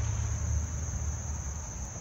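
A cicada buzzes inside a dog's mouth, giving a steady, close insect drone with a constant high whine that runs unbroken throughout.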